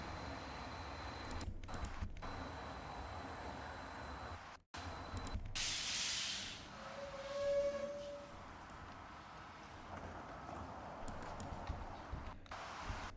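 A steady rumbling train ambience with soft hiss, a sudden burst of spray-like noise, and a faint tonal whine, running continuously without speech.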